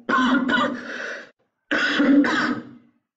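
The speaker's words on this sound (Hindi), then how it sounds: "और खांसी भी हो रही है" Two rough coughing bursts, each a second or so long with a short pause between, close and fairly loud with no talking.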